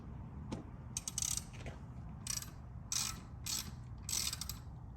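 A headlight mount is loosened on a 2016 Harley-Davidson while a 7-inch LED headlight is installed. A series of short metallic ratcheting clicks come in close bursts over a low background hum, with no talking.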